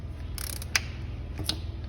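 A faulty timing chain tensioner in an Audi Q7 engine snapping back, giving two sharp metallic clacks about three quarters of a second apart over a steady low engine rumble.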